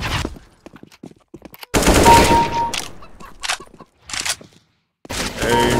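Shotgun blasts in a video game come in loud, dense bursts separated by brief quiet gaps, close and harsh, with a few faint clicks and scrapes between shots.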